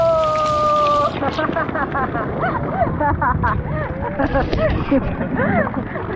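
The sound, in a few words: waterfall splashing at a resort lazy river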